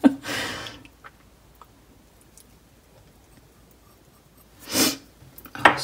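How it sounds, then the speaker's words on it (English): A person sniffs loudly and close by, two sharp nasal bursts, one at the start and another near the end, with quiet in between. "Sniff, sniff."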